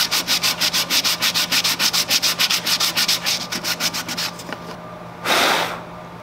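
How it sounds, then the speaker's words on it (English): Skateboard wood is hand sanded with 120 to 150 grit sandpaper in fast, even back-and-forth strokes, roughly five per second, loud and close. The strokes slow and fade, and one longer rasping swipe follows. "go ahead and hit this with like a 150 or a 120 sandpaper"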